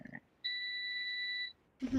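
An air fryer gives one steady, clear electronic beep that lasts about a second. Brief bits of nearby voices come just before and after it.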